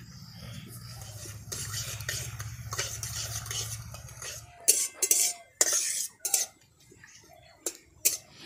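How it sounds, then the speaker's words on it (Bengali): Dried red chillies, a bay leaf and whole cumin dropped into hot oil for a tempering, with a low sizzle at first, then sharp metal clinks and scrapes of a spoon against the pot, close and intermittent. "এবার তেলের মধ্যে দিয়ে দেব দুটো শুকনো লঙ্কা, একটা তেজপাতা আর দিয়ে দেব গোটা জিরে।"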